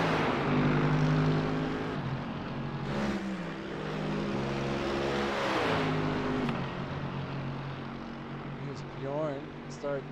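A GT3 race car in iRacing at Le Mans roars at high speed down the straight, a loud sustained engine drone with shifting pitch and a brief rising whine near the end, under steady commentary.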